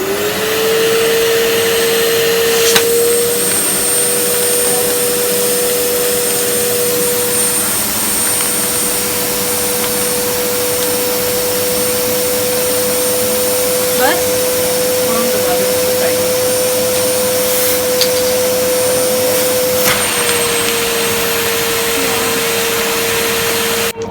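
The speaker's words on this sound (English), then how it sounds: "And now we're gonna vacuum." A vacuum cleaner runs steadily for the whole stretch, a loud, continuous motor whine with a slight pitch shift near the start and end, while faint voices can be heard now and then under it.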